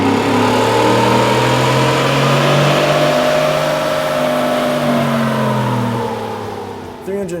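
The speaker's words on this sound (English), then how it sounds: "let's get the truck back on the dyno and see what kind of gains we get from this Power Plus series throttle body" A 2010-or-later Ford Raptor truck with a 6.2L engine and an upgraded throttle body roars loudly on a dyno, its pitch sweeping upward in a sustained pull before easing off.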